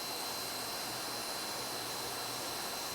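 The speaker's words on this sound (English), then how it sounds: "So I just weld out my T-joint all the way out to the edge, crease it in." Welding a T-joint on a drain liner: a steady, loud hiss with a constant roaring whoosh, unbroken and close, with no speech.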